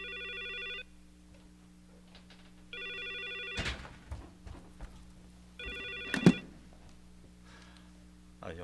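An old-style telephone bell rings in three separate bursts, fairly faint indoors, with footsteps and small handling noises between the rings.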